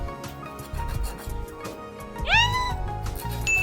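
A cat in a Tamil Nadu village home gives a single clear, rising meow partway through, standing out over a low, steady background rumble.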